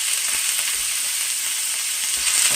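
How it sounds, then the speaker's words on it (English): Shrimp cook in a pan for shrimp and grits, giving a loud, close, continuous sizzle that holds steady throughout, with no speech. "now we're going to add our shrimp to our mixture here"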